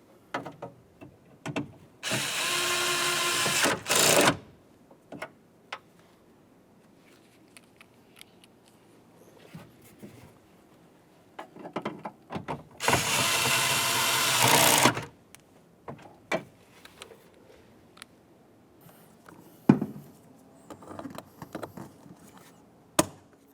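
A power tool drives in the lower mounting bolts of a 2004-2015 Nissan Titan power window regulator in two loud bursts of a couple of seconds each, with quiet clicks and handling sounds between them.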